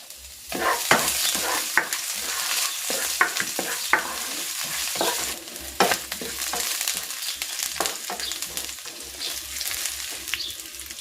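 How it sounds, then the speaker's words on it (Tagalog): Garlic sizzles in hot cooking oil in a pan, a steady frying hiss broken by repeated scrapes and stirs of a utensil against the pan. "Igigisa ko na itong bawang."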